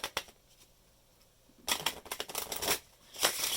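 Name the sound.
quick shuffle of playing cards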